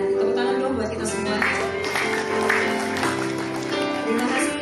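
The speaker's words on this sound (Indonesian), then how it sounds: "Tepuk tangan dong buat kita semua." Applause from an audience at a farewell ceremony for footballer Syamsul Haeruddin leaving PSM Makassar, a steady wash of clapping that runs throughout with a voice talking over it.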